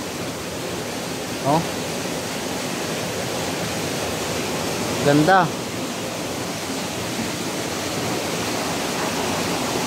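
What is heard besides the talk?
water dripping and falling from above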